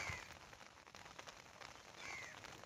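Rain falls outdoors at a fish farm, a soft, steady patter on surfaces heard faintly at a distance, with no talking.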